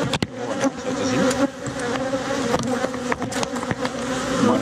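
Honeybees swarm around their hive in a Dutch garden, producing a dense, continuous buzz that stays loud and close throughout, with individual bees zipping past and no voices.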